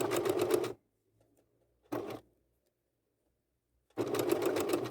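Sewing machine stitching tweed fabric in quick bursts: a short run of rapid needle strokes, a pause, a brief stab of stitches, another pause, then a longer loud run, close and alone.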